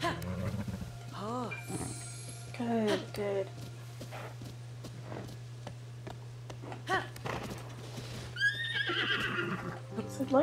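A horse in the video game The Legend of Zelda: Tears of the Kingdom neighs and whinnies several times over a steady electronic hum, with a person talking in between.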